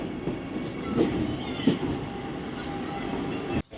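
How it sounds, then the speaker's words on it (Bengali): The Himgiri Express rumbles steadily nearby as it arrives at the station, with a low broadband roar and faint rail clatter, ending in a brief sharp drop. "ট্রেন অলরেডি ঢুকছে দেখো"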